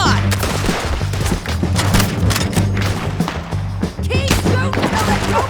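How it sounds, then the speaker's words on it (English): Red Dead Redemption II video game gunfire: rapid, dense volleys of shots crackle continuously at close range, layered with booming thuds and shouted voices in a chaotic firefight. "Keep shooting till they don't get up!"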